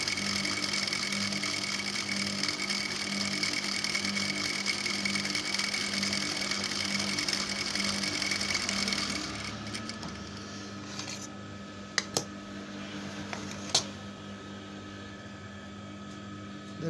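A sewing machine stitches a children's palazzo skirt, a steady close mechanical whir for about nine seconds, then quieter handling with a few sharp clicks.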